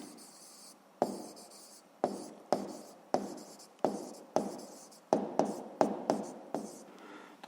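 Pen or chalk writing notes during a school physics lesson, a series of about ten crisp scratchy strokes, each with a sharp start and quick fade, in a steady rhythm, close and fairly quiet with no talk.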